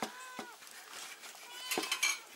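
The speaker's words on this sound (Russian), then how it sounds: "Кот, который орет постоянно." A cat yowls in an outdoor kitchen in Tashkent while lamb is cut for a kazan dish, giving a couple of drawn-out, wavering cries over faint clinks of utensils.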